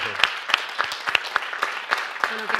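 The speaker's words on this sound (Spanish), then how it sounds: "Por favor, un aplauso para Juan Jacinto." After a talk in a philosophy lecture series, a small audience gives modest, fairly quiet applause, with distinct individual claps in an uneven rhythm and a faint voice briefly underneath.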